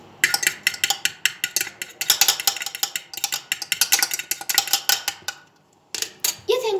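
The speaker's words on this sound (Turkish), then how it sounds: "Şimdi arkadaşlar elimdeki çatalımla yumurtamı çırpıyorum." A fork whisks an egg in a bowl, producing rapid, steady metallic clicks and taps in a quick rhythm, close and bright, pausing briefly before a few final strokes.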